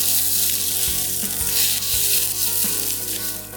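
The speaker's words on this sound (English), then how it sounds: "Stir and shake the pan until the eggs are set." Rice and eggs fry with green onions and spices in a pan, a steady close sizzle broken by scraping stirs and the rattle of the pan being shaken.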